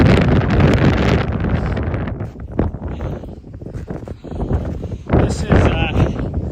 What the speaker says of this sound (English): windier than what it said it was